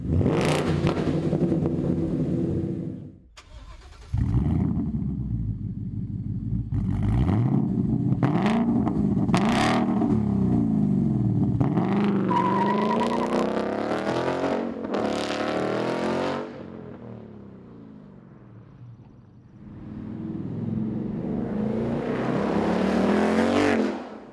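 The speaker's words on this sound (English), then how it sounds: "Nice deep tone at idle. Definitely loud and aggressive when you get on it." A Ford Mustang GT (2015-2017) with an MRT KR axle-back exhaust idling with a deep, steady rumble, then revved hard several times, loud and close, with short blips and pauses between revs.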